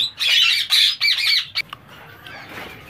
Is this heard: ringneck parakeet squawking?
yes